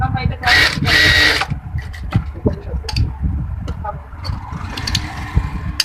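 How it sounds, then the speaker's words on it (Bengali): A sewing machine double stitching the lower side of a baby kameez, a close whirring run of stitches at first, then quieter handling sounds while someone talks over it. "এই নিচের সাইডটা যাতে ছুটে না যায় সেজন্য ডাবল সেলাই দিয়ে নিতে হবে।"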